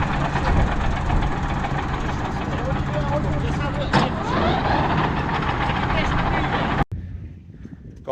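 A tractor engine idles steadily and loudly close by on a dairy farm with a mower attached, a continuous low rumble that cuts off near the end, with someone talking over it.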